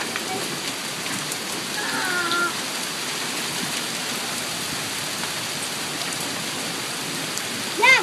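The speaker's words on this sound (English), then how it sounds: "It's kind of interesting that it's hailing now." Hail pours down during a summer storm in Mamaroneck, New York, a dense steady hiss of pellets on surfaces all the way through, with faint voices briefly underneath.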